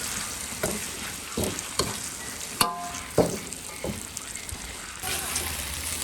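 Guizhou dry pot beef cooks in a pan over radish with a continuous loud sizzle, punctuated by irregular knocks and clacks of stirring.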